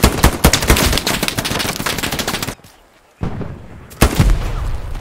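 Machine gun fire in the Hell Let Loose World War II shooter game, loud rapid bursts of automatic gunfire with a brief quieter gap before the shooting resumes.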